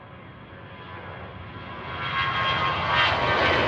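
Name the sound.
jet airliner at Manchester Airport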